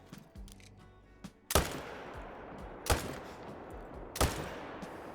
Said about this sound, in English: we're gonna go for the shot right here with the 2506.